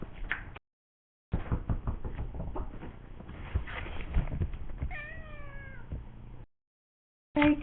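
A cat meows a few times close by, mixed with soft knocks and pattering, between short stretches of silence.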